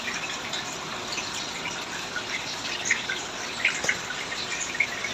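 Water rushing and gurgling steadily as it drains out of a swimming pool in hot weather, a continuous hiss with scattered drips and splashes, fairly close and alone.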